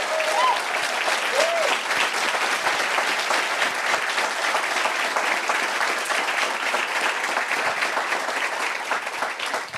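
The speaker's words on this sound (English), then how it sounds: "So give them a round of applause." An audience at an executive fireside chat applauds warmly in a loud, dense, sustained round of clapping that fades slightly toward the end.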